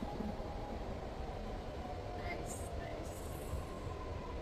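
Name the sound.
driverless metro train running in Sydney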